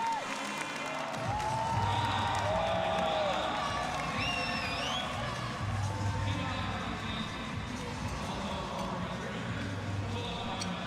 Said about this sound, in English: The crowd and friends and family enjoying that performance